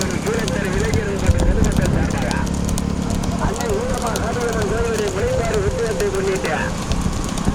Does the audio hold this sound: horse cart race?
yes